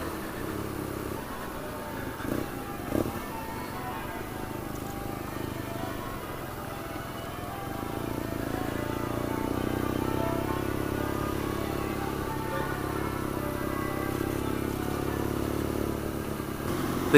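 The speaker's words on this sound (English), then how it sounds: "you're really just relying on the noise of the engine" A BMW R nine T motorcycle engine hums while riding, a low, fairly faint rumble that swells a little midway and then holds steady.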